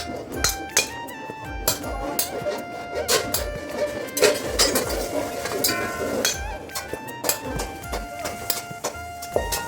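Metal cooking woks (karai), cast from melted-down ship and truck scrap in a factory, clank and clink repeatedly as they are gathered and stacked, a busy run of sharp metallic knocks over a noisy workshop background.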